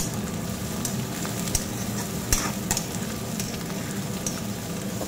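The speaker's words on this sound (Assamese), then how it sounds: "পিঁয়াজখিনি ভাজি ল'ম" Chopped onions frying in a little oil, a loud, continuous close sizzle with occasional sharp crackles and scraping stirs, heard alone without any voices.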